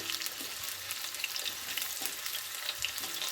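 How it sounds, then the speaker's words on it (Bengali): Potatoes coated with food colouring fry in hot oil for a home-made biryani, giving a steady close sizzle with occasional stirring scrapes and light pops, no voices. "প্রথমে আমি আলুগুলো একটু ফুড কালার দিয়ে ভেজে নিচ্ছি।"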